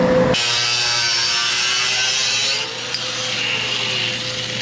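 Cutting a metal patch piece for a custom truck bed with a power tool, a loud steady whining cut running continuously, dipping slightly near the end without stopping.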